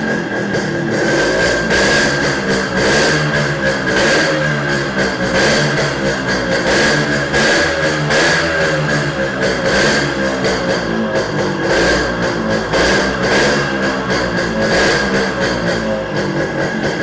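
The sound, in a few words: 1988 model motorcycle engine started and revved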